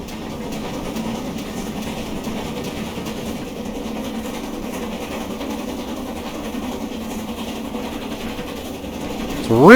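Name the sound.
GWR Manor 4-6-0 steam locomotive running, from Train Simulator Classic video game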